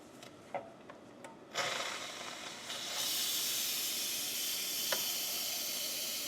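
Steam hisses steadily in a home kitchen after a few light clicks and taps, then swells into a louder, sustained broadband rush that holds to the end.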